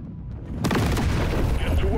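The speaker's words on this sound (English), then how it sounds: "That was a big explosion." A large in-game explosion in Deep Rock Galactic: Survivor erupts as a sudden loud broadband blast, then a dense rumbling barrage of continued blasts and effects keeps the level high to the end.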